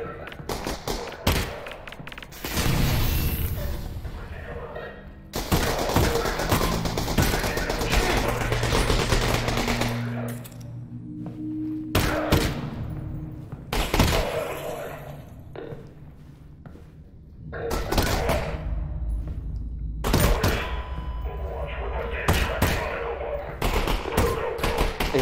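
Gunfire in the VR shooter Half-Life: Alyx, heard as loud bursts of shots and thuds in several clusters across a busy game soundscape with sections of heavier combat noise.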